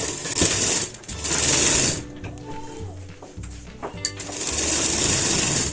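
Electric sewing machine stitching a ladies shirt, running in bursts of rapid, whirring needle chatter with short pauses between runs, close and loud.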